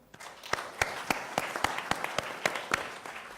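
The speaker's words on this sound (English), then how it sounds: "Please, another round of applause." Applause from an audience after a panel discussion at a conference, many hands clapping with distinct sharp claps standing out over a steady wash, moderately loud and without talk.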